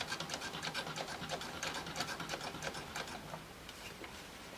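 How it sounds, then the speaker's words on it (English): A sewing machine stitching fabric for a gnome appliqué runs with a quiet, steady rapid clatter, its needle ticking evenly throughout at a low level. "I'm just going to do a couple stitches and get me started"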